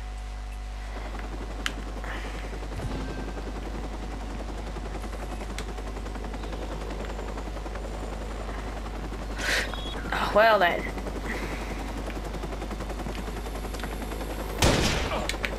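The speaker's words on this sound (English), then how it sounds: "Go away, you stupid helicopter." A constant low helicopter engine drone runs throughout in the video game Watch Dogs, with bursts of gunfire near the end, and a person speaks briefly over the game sounds.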